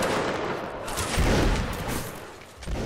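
A ragged, sustained volley of musket fire from a line of Napoleonic infantry of the 25th Regiment of Foot, crackling shots overlapping continuously at close range for a few seconds.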